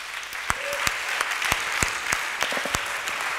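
A church congregation at a solemn convocation breaks into steady applause, a dense patter of claps with a few louder sharp slaps standing out near the listener.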